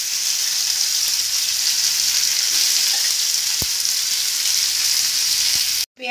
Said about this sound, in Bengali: ওই তেলের মধ্যে দিয়ে দেবো পেঁয়াজ কুচি।